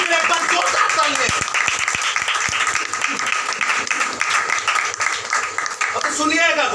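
Congregation applause during a Hindi-language church sermon: a loud, rapid burst of clapping with crowd noise, with a speaking voice rising over it near the end.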